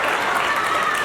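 Applause from a gala audience, a short, dense patter of many hands clapping at once, steady and fairly loud.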